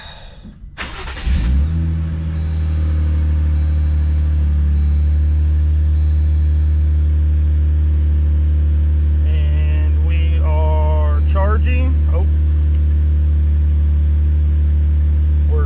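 A car engine cranks and catches, then settles into a steady, loud low idle after an auxiliary battery delete, with the rumble holding constant throughout and brief faint chimes near the end.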